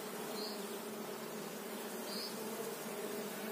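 Honeybees swarm in a dense, steady hum at an open hive during a July beekeeping session, with a couple of individual bees buzzing close past.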